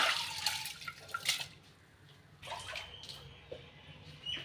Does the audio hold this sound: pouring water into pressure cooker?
yes